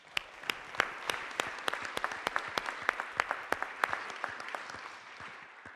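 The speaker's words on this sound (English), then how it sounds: "Round of applause." An audience at a business and manufacturing event bursts into applause, with many distinct claps close together that carry on for several seconds before tapering slightly.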